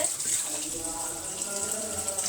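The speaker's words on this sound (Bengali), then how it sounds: "আমি আলু ধুয়ে একটু সিদ্ধ করতে দিব" Tap water runs steadily over potatoes being washed in a kitchen sink, a continuous close splashing hiss with no break.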